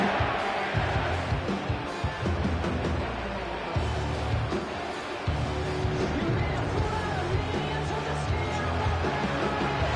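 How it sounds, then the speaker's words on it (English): A packed American football stadium crowd swells into a dense, continuous roar on third and long, loud and steady throughout with no clear pauses. "This crowd turning up the decibel level"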